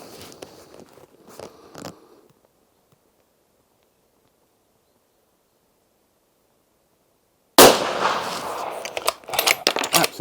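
A Sauer 505 rifle chambered in .308 fires a 125-grain bullet: a single sharp, loud shot bursts in after a few seconds of near silence and rings out with a short, rattling echo. Faint handling noises come before it.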